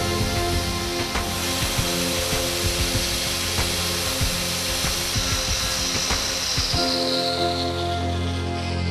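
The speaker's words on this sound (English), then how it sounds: "Then the material is sanded down 1 mm over a width of barely 20 mm at both ends." Abrasive sanding on a plastic car body part being repaired, taking the material down about 1 mm at each end; steady close scraping and rubbing strokes continue throughout with no talking.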